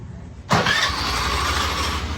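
After a brief quiet, a Honda Activa scooter engine starts up abruptly and settles into a steady, fairly loud idle close by.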